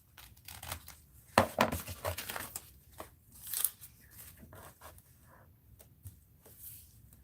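Scissors snip through fabric in a quiet room, giving a cluster of sharp crisp cuts and rustling, then softer scattered handling sounds as the material is moved about.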